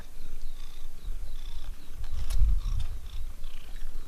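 A neighborhood cat purrs close and loud around a house, a continuous low rumbling rhythm with faint high chirps above it and no talking.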